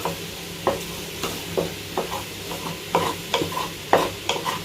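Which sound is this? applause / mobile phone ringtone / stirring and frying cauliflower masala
stirring and frying cauliflower masala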